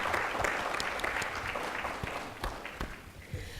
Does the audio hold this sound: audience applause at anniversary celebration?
yes